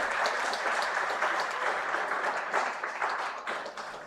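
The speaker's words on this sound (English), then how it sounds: "A big round of applause for Mr." Applause for a speaker being felicitated at a tech conclave on AI and defence, a moderately distant, soft wash of many hands clapping that stays fairly even throughout.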